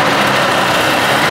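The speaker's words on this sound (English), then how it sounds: "This is a 1990s Hirth 2703 two-stroke" A 1990s Hirth 2703 two-stroke airplane engine running loud and close in a steady, raspy drone that cuts off abruptly at the very end.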